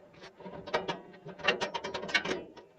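Screwdriver working the hood latch of a 1959 VW Bug to release it manually, a close string of small metallic clicks and ratcheting scrapes in an irregular rhythm.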